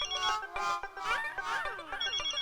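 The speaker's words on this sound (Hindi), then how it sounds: "ये जब तक फोन नहीं चकेंगे ना तब तक वो रिंग बजाता रहेगा।" A melodic phone ringtone plays continuously, bright and repeating, close and fairly loud with no one speaking.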